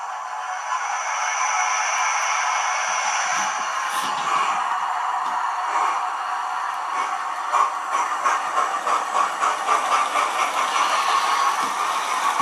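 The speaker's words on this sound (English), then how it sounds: "So I'll just now set off both these trains just to show you them going." Two Hornby Class 47 model trains run on a layout track, one pulling wagons, with a steady close whirring hiss throughout and faint rhythmic clicking in the later seconds.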